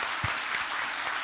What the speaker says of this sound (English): we should give her a round of applause again for organizing this and get this going